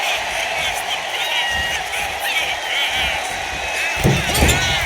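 A wrestler crash-lands from a body slam counter in the WWE 2K26 video game, a heavy impact thud near the end over constant arena crowd roar and cheering, with commentary voices throughout.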